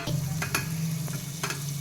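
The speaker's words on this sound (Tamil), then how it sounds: "சிம்மில் வச்சு தக்காளியை வந்து கொஞ்ச நேரம் வேக வைப்போம்." Tomatoes with turmeric cooking on a low simmer in a pan, a soft continuous sizzle close by, punctuated by a few brisk scraping stirs.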